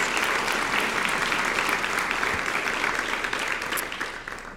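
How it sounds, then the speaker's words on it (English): An audience at a Rotary Club meeting applauds teachers and educators, a dense, even wash of clapping that gradually thins and fades toward the end. "let's give them a round of applause"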